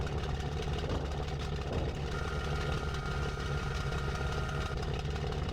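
A Bf-109F fighter engine idles before takeoff in the game IL2 Sturmovik, giving a steady, loud, rough rumble with no pause.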